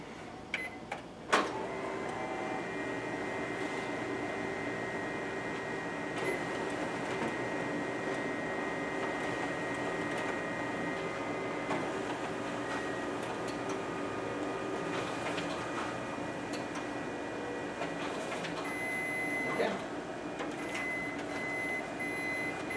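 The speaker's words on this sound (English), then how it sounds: "we're going to go ahead and run a few test copies to show the color quality in this machine" A Ricoh MP C2000 colour copier runs test copies with a quiet, steady mechanical hum, a few clicks and beeps, and soft paper-feed clunks scattered through the run.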